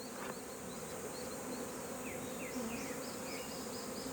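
Honeybees buzzing around a hive while being fed pollen patties, a dense steady drone of many wings close by, with occasional brief higher whines of individual bees passing.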